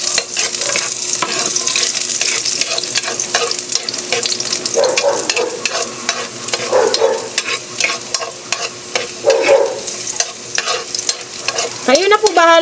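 Garlic sautés in hot oil in a pan for a spicy Filipino eggplant dish, sizzling and crackling loudly throughout, with frequent scraping and stirring clicks from a utensil and no speech.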